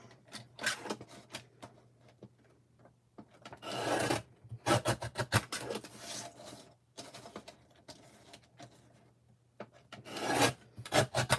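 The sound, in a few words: trimming a paper card front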